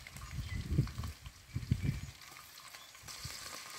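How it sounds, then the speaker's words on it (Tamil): Mustard seeds and fennel seeds fry in hot oil for devilled shrimp, giving a faint crackling sizzle with small bursts of popping and stirring, then settling into a quieter steady hiss. "இப்போ கடுகு போடுவோம். பெரிய சீரகம் கொஞ்சம் போடுவோம்."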